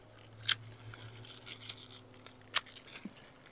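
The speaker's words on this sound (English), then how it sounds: "So I am literally just going to cut some of these off, let them continue growing." Garden scissors snip kale leaves off growing plants, giving two crisp, separate cuts with soft rustling of foliage between them against a quiet outdoor background and no talk.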